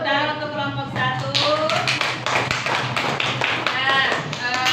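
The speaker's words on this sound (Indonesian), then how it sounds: "Tepuk tangan untuk kelompok 1." Classroom audience clapping for the first group after a presentation, a steady burst of many hands under overlapping voices and chatter throughout.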